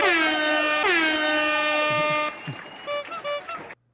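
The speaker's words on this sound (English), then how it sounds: "That deserves like some air horns" Loud air horn blasts sound off in a celebratory burst: a long sustained blare, a second drawn-out blast, then a few short choppy toots trailing away.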